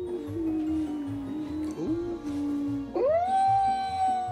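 A wolfdog, a wolf and domestic dog cross, gives a long, loud, sustained howl close by, the tone wavering and then rising sharply to a higher drawn-out note.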